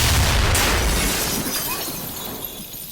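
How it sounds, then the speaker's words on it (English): A window bursts during a violent anime storm, a loud crash of shattering glass that decays into a rushing, fading wash of wind and debris. "The storm gets so intense that it shatters a nearby window"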